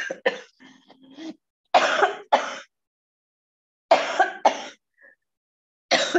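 A person coughs and clears their throat several times in loud, close bursts separated by short silences.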